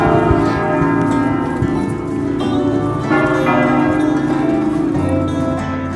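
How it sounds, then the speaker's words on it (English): A very loud church bell in Naples rings with a sustained, booming metallic tone that resonates steadily and close by, with no voices. "But it is a very, very loud bell."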